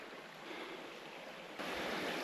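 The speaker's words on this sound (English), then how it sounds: "We have a side creek flowing here into the main river." A side creek pouring into a river on a hiking trail in Guam: steady broadband rushing water close by, swelling louder partway through, with no talking.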